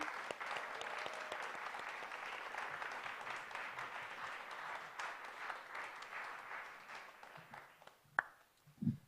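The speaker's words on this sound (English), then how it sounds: "one more round of applause for us all for graduating" Audience at a Master of Fine Arts graduation applauds the graduates, a sustained wash of clapping from a crowd that thins toward the end, closing with a few louder isolated claps.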